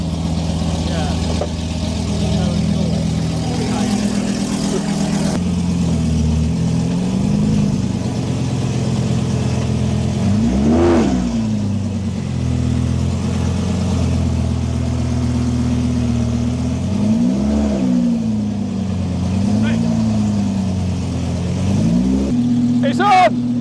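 A cheap second-generation Audi R8 V10 runs with a rough, rowdy idle and several short throttle blips rising and falling, close by, with people talking excitedly over the engine.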